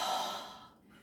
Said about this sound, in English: Let's breathe in. Let it go.